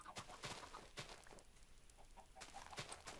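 Chickens clucking in the Minecraft video game, a flock of hens making short repeated clucks and squawks in scattered bursts, fairly close, with no talk over them.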